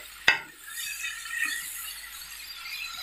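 Vegetable soufflé ingredients mixed with a little oil and salt: one sharp knock at the start, then a soft, steady scraping and rustle of stirring, quiet and close, with no talking.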